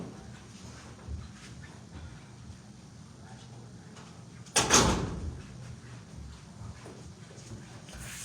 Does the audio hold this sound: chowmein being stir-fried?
no